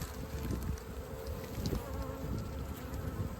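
Honeybees buzz continuously around the entrance of a hive in early spring, a dense, steady drone of many insects with individual bees passing close to the microphone, with no talking.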